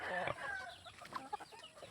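A hen clucks softly in short, scattered calls against a faint, hissy background.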